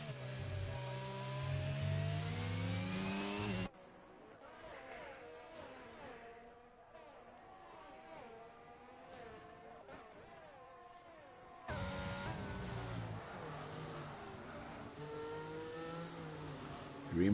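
Race cars in F1 22 at the Mexico circuit scream past with rising and falling engine whines, one car overtaking another, layered, mid-distance and sustained throughout.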